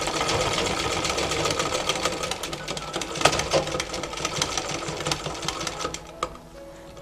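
An electric sewing machine runs steadily at close range while stitching a half collar shirt near a zipper, giving a fast, continuous rattling whir that slows and stops near the end.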